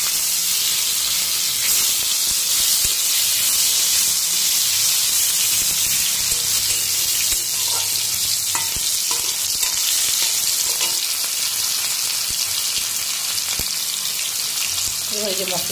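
Tomatoes go into hot oil after fish fried with cumin tempering, giving a loud, steady frying sizzle and hiss throughout with occasional stirring clinks.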